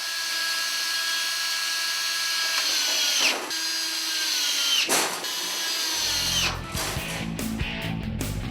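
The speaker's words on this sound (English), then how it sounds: "put some sheet metal screws in it to hold it there" A power drill drives sheet metal screws into starter ductwork, whining loudly and steadily, dipping in pitch a couple of times as screws seat, then ending with short rattling metallic bursts.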